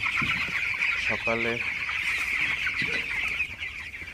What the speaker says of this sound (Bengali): আজকে হচ্ছে আমার ব্রয়লার মুরগির বয়স 17 দিন